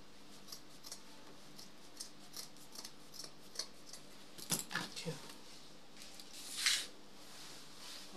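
Scissors cut fabric for a wrap dress in a few short, close snips that grow louder toward the end, set against a quiet room.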